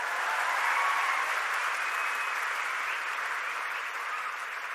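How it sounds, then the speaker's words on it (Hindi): A gathered audience gives sustained applause, a thick, even wash of many hands clapping at once that holds steady and eases slightly near the end. "एक बार ताली बजा दो उन लोग के लिए।"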